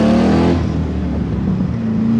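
A Chevrolet C2 Corvette restomod pulls away from a light, its engine note loud and close, holding a steady droning growl that settles and then climbs again as it accelerates, with no talk.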